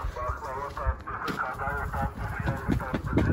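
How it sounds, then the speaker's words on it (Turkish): Chickens let out in a village yard in the evening cluck and squawk near by, under steady talk in Turkish. "Şöyle tavukları salmışlar akşam üzeri."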